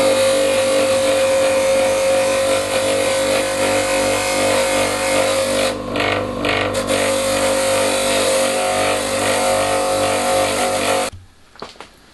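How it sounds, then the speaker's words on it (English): A spinning wire wheel scours rust off a steel hammer head, a loud, steady, harsh whirring grind that holds for about eleven seconds before cutting off abruptly into near silence. "The head gets a session on the wire wheel to remove the rust."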